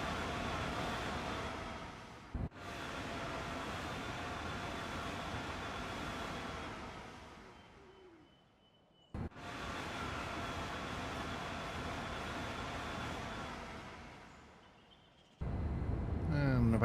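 A Class 390 Pendolino electric train at about 124 mph on the Intercity West Coast line in Train Sim World 5, a sustained loud rushing rumble of rail and wind noise with two brief sharp breaks and dips, no talk.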